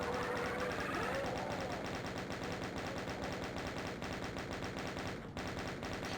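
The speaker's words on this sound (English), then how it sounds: "Grab the chain gun here." The chaingun in Doom on the Nintendo 64 fires a continuous, evenly spaced stream of rapid shots, loud and close for the whole stretch, with a brief game sound layered in near the start and no talking.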